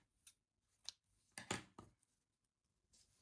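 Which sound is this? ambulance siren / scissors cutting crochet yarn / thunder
scissors cutting crochet yarn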